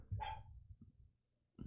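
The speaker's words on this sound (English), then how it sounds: "That's a dog." A single dog bark rings out briefly and fairly close, followed by quiet low rumbling and another short burst of sound at the end.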